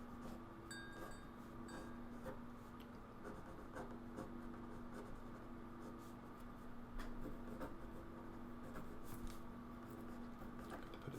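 Pen inking over light pencil gesture lines on paper, a steady close scratching of strokes with small taps and scrapes, quiet and continuous with no talking.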